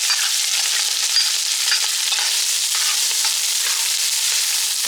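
Garlic and onion sauté in hot cooking oil for a Filipino-style spaghetti sauce, producing a continuous bright hiss that stays even and close for the whole stretch, with no voices.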